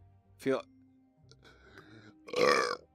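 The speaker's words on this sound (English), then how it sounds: "Nope, that was just a chili nacho burp on the way up." A man belches after eating chili nachos, giving a short guttural burp followed by a longer, louder drawn-out one, close to the microphone with quiet gaps in between.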